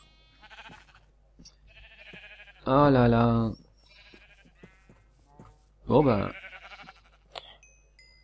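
Two sheep in the Minecraft video game give short, wavering bleats a few seconds apart, loud and close, between stretches of casual talk.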